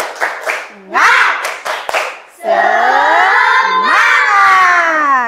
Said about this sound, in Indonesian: untuk lebih semangat lagi kita tepuk semangat lagi ya